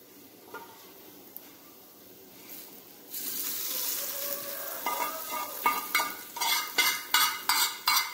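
Oil sizzles loudly in a pan as the tempering for a Tulunad-style raw mango pickle goes in. A quiet stretch is followed by a burst of frying, then rhythmic bursts of stirring and spoon scrapes, with no talk.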